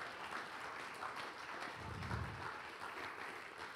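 Congregation applause during a church service, soft and distant hand clapping spread evenly over the room, faint and steady with no speech on top.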